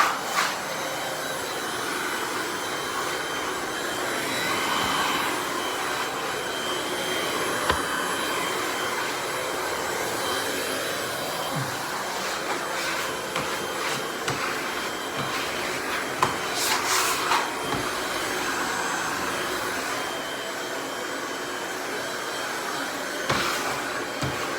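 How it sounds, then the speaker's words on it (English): A heat gun blows a continuous, close, airy roar onto vinyl wallpaper for a long stretch, with faint scrapes and light rubbing taps mixed into the steady hiss. "Get yourself a heat gun and make sure that the vinyl is nice and relaxed when you're installing it"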